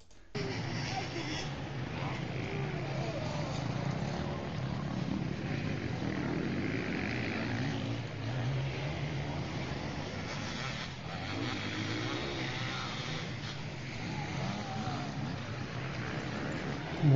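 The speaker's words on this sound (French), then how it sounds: "on n'entend que les motos" Engines drone continuously in the distance, a steady mechanical roar of motorcycles racing at night in a 12-hour endurance race, with faint voices underneath.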